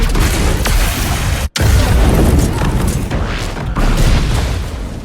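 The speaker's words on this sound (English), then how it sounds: "leaving Desmond and his army to die in a huge explosion, destroying all evidence in the blast." A huge explosion in a Dune: Prophecy scene blows up the whole place, a loud, sustained roaring blast with deep rumble that cuts out for a split second before continuing.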